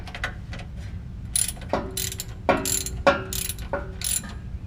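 A hand ratchet snugs the rear differential cover bolts on a Ford F150, giving several short bursts of rapid clicking with pauses between, close up.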